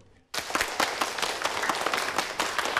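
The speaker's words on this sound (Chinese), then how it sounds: "鼓掌啊！" After a quiet moment, a roomful of people suddenly breaks into sustained, even applause at a gathering in a Chinese family drama, the clapping loud and close and holding steady to the end.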